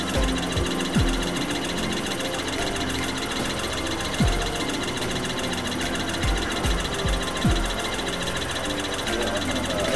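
A solar thermal electric generator engine runs its flywheel with a rapid, steady mechanical clatter and whir, loud and close, while people talk over it.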